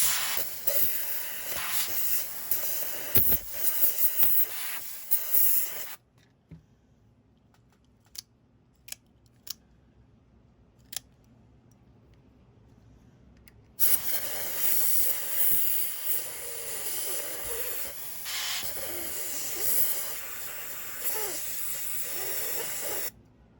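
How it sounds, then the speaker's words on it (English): Loud hissing bursts of compressed air sprayed into a Microtech Ultratech knife to clean it, two long blasts separated by a quiet stretch with a few faint clicks. "So we're gonna spray it out with some pressed air."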